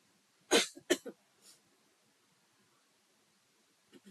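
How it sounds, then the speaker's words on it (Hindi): Two sharp coughs close together, a smaller third one, then quiet with faint rustling near the end, during a yoga breathing exercise. "शुरू में करेंगे तो सबको खांसी आएगी"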